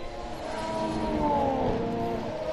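A Formula 1 car during preseason testing at Barcelona, heard from trackside as it speeds down toward turn 1 and brakes, engine tone swelling and falling at moderate distance, with no voices.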